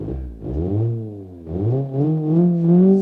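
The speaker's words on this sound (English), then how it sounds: "And there's a lot of engine noise." A Bruckell LeGran 2.5 S car engine in BeamNG.drive revs up and down in rising, falling sweeps, loud and close, with no other sounds around it.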